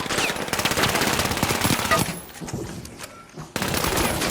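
Machine gun fire in a shooting video game: loud, rapid continuous bursts that break off briefly and then resume, heard up close and alone.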